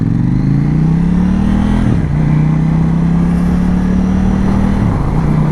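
Motorcycle engine fitted with an Akrapovic exhaust, idling steadily with a low, even drone and a slight rise in pitch, close and loud without voices.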